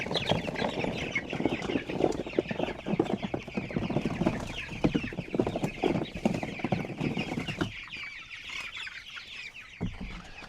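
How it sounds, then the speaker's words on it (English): Cornish cross meat chickens out on grass cluck and squawk in a busy overlapping flock chorus, close and loud for several seconds before thinning out into a quieter pause. "this is our third batch of Cornish cross out on grass"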